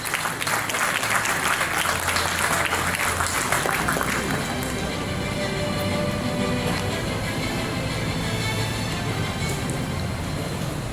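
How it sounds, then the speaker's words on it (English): An indoor conference audience applauds a chief guest at an inauguration ceremony, with dense continuous clapping filling the room and holding steady and loud throughout, with no pause. "please join us in welcoming our chief guest, Dr. Radhika Reddy, with a big round of applause."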